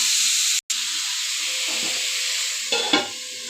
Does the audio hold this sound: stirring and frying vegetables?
yes